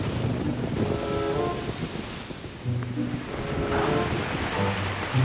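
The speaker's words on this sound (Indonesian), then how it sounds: "Hujan-hujan kayak gini lagi" Steady rain pours as a broad, even hiss, with a low hum and faint brief tones under it and no clear voices.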